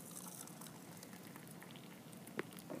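Hot, steaming water poured into a container, a steady hissing, bubbling liquid stream lasting throughout, close and moderately loud, with one sharp clink near the end.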